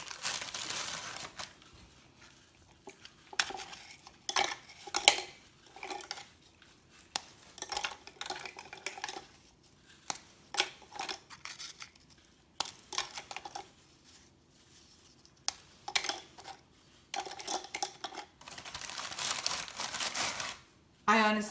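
Graham crackers are snapped by hand into a Cuisinart mini food processor, giving scattered crisp cracks, crinkles and clinks against the bowl in irregular bursts with quiet gaps between them. A voice talks at times among the noises.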